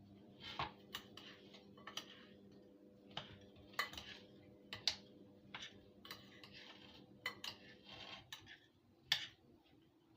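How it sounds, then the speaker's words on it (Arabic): A spoon clinks and scrapes against a bowl while a stuffed-intestine (mumbar) filling is mixed together. The taps are quiet, sharp and irregular, about a dozen over the stretch, over a low steady hum, with no talking. "نقلب كله مع بعضه كده زي ما انتم شايفين."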